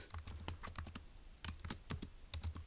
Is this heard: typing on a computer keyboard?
yes